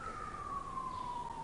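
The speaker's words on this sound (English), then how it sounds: "excuse the siren behind us, but that's because we have the door open" An emergency vehicle siren wails outside through an open door, one long sweeping tone sliding slowly downward, moderately distant and steady for its brief length.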